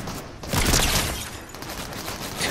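Video game gunfire in a sustained fusillade, dense bursts of shots and booms rolling continuously through the whole stretch, fairly loud with no talking.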